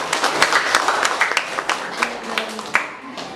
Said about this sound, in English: recognition by clapping our hands